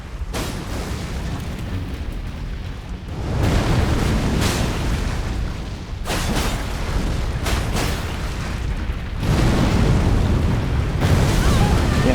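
Explosions in the video game Elden Ring: Shadow of the Erdtree, heavy booming bursts that swell and roll over several seconds, loud and close, repeating in broad noisy waves.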